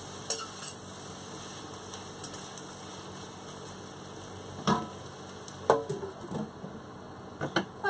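Onions and peppers frying in a pan in an RV kitchen, a faint steady sizzle with a few scattered clicks and scrapes of stirring utensils.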